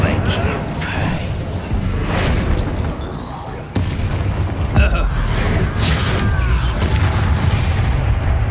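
Hogwarts Legacy Bombarda explosion spell going off in battle, a loud booming blast within a dense, continuous wash of combat noise, with a sharp crack near the middle.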